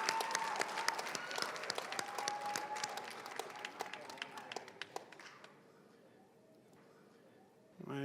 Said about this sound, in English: give a nice round of applause for the Medical Lab Assistant graduates